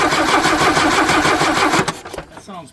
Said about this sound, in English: All right, we're gonna go crank it.